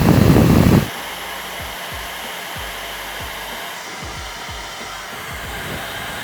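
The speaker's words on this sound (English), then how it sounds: "What I'm gonna do is I'm just gonna hit my hair a little bit with the hairdryer." Steady, loud whoosh of a hair dryer blowing on a beard, switching at the start from a louder hot blast to a constant airflow hum with faint intermittent clicks throughout.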